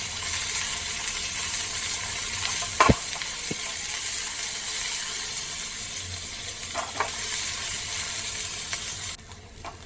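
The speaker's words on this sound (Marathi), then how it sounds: "एकदम गोल्डन ब्राऊन होईपर्यंत आपल्याला हा कांदा भाजून घेऊ" Sliced onion fries in hot oil in a wok, giving a steady broadband sizzle throughout, with a few sharp scraping clicks from a spatula stirring, close and fairly loud.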